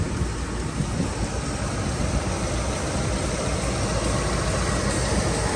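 A car engine idles steadily up close, with a suspected leaking or bypassing cylinder causing a pulsation. A constant, even mechanical hum and hiss carries on throughout with no talking.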